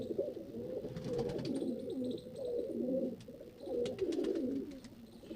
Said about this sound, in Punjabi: ਜੌਨਸਰੀ ਕਾਲੀ ਨੋਕ ਦੀ ਚਿੱਟੀਆਂ ਅੱਖਾਂ ਦੀ ਕਬੂਤਰੀ ਹੈ